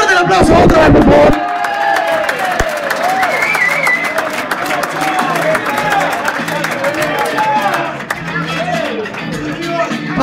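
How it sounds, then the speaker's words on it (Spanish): Crowd at a 50th birthday party claps and cheers loudly after a speech, a dense wash of applause and shouting with voices mixed in, sustained for about ten seconds. "¡Fuerte el aplauso otra vez, por favor!"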